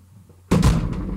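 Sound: fan dropped on the floor by a doorway

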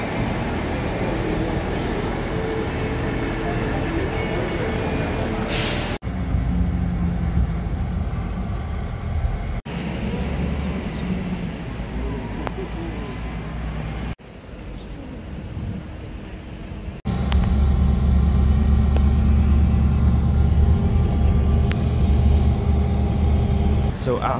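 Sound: bus ride from Podgorica to Tirana

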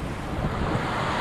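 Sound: ocean waves and swells on the coast

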